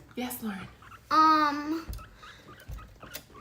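Pet guinea pigs give a few high, wavering squeaks, the longest a rising, quavering whistle near the middle, mixed with nearby chatter from a child and adult.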